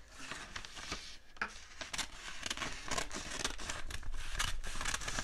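Scissors snip a small piece of paper, a quiet close series of crisp cuts and rustles at an uneven pace, with no talking.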